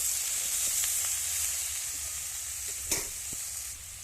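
Cauliflower stems fry with spices in a pan, a soft steady hiss and sizzle with a couple of sharp spatula clinks near the end, close but fairly quiet, no voices.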